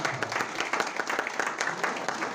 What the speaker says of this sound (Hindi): कृपया एक बार जोरदार ताली बजाएं।